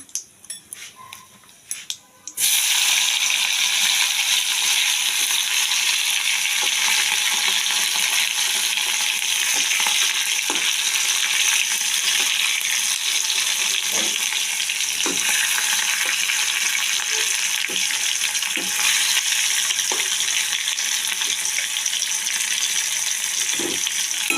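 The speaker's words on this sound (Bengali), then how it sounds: "টমেটোটাকে দিয়ে দিচ্ছি তেলের মধ্যে।" Tomato dropped into hot oil already tempered with cumin, bay leaf and garam masala for chana dal dhoka: a loud, steady sizzle bursts in after a quiet start and continues throughout, with occasional light clinks of stirring.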